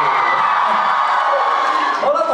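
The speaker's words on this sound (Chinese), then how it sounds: "我们为世一欢呼" Fans cheer and shout together at a fan concert in Hong Kong, a steady loud crowd roar with high-pitched screams that holds for the whole stretch.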